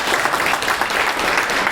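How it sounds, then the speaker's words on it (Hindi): Continuous loud audience applause at an NGO gathering in India, a dense steady clapping that fills the room without a break. "लियाकत सर के लिए जोरदार ताली हो जाइए।"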